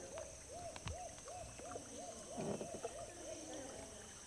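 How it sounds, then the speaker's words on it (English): Calls of a white-tailed tropicbird over water in Nikko Bay, Palau, come as a series of faint, evenly spaced hoot-like notes, about ten in quick succession, over a steady background hiss. "White-tailed tropic bird."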